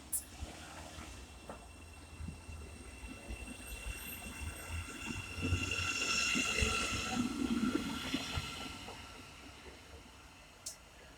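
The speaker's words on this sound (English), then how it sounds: "getting ready to depart now will be the 1304 Great Northern service to Moorgate" A Great Northern passenger train, the 13:04 service to Moorgate, pulls out of Welham Green station on the East Coast Main Line, a faint low rumble and hiss that swells midway and fades, with a few sharp clicks.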